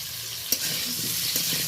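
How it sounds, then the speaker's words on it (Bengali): Potatoes frying in a pan with salt and turmeric, giving a steady soft sizzle with a couple of sharper clinks as they are stirred, close by and without talk. "লবণ হলুদ দিয়ে বেশ কয়েক মিনিট নাড়াচাড়া করে আলুটা লালচে করে ভেজে নেব"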